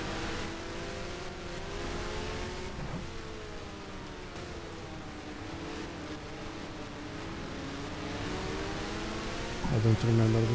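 Vintage 1968-season race car in the F1 Challenge sim, engine droning hard at steady full throttle with slowly shifting pitch, moderately loud and continuous, a sharp change near the end.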